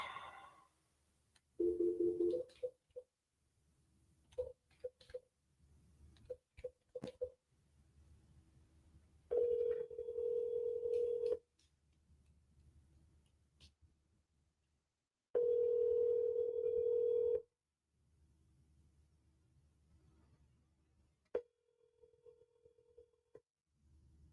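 A telephone call being placed: a burst of dialing tones followed by repeated long ringback tones with pauses between them, clear and fairly close, with some faint background noise and no talking.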